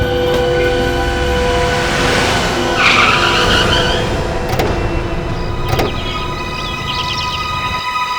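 A car with a fault, driven in a jungle area, gives a loud, continuous rumble with steady whining tones and scraping texture throughout, without any talk.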